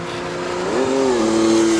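A 1979 Benelli 750 Sei six-cylinder motorcycle engine revs up close, its smooth, steady tone rising in pitch and holding strongly for under two seconds, with no voices.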